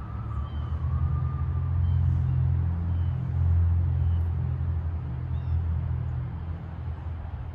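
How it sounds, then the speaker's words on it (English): Street traffic rumbles steadily outside the grounds of an estate, a continuous low drone of passing cars with no distinct horns or voices. "Minus the traffic on the street."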